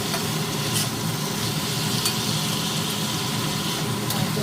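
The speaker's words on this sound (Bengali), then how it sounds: "মশলাটা ভাজা হয়ে গেছে, তেলটা বেরিয়ে এসছে।" Spice paste sizzles and crackles in a small amount of oil while a spoon scrapes and stirs it through a cauliflower, potato and egg curry, a steady close frying hiss with occasional sharper clicks of the spoon and no speech.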